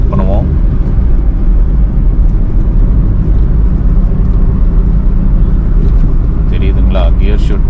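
A 2003 Hyundai Accent car engine runs loud and steady throughout, with a continuous low rumble and a whirring rise near the end as it revs through a gear change.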